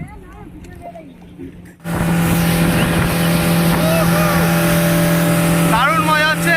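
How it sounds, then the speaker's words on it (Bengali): Motorboat ride on Patratu Dam, a steady loud engine drone and rushing water kicking in after a quieter start, with people talking and calling out over it. "আর এখানে আমরা এখন বোটিং করব।"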